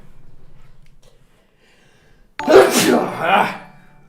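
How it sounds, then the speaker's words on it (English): A single loud, close human sneeze bursts out after a few seconds of quiet breathing and low murmuring, trailing off briefly afterward. "I'm going to sneeze."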